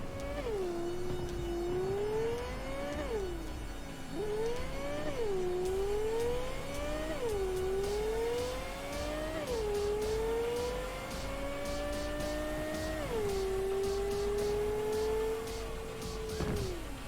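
A supercar in Cyberpunk 2077 accelerates through repeated gear shifts, engine pitch climbing and dropping again and again at steady loudness, with some tire noise and no voices.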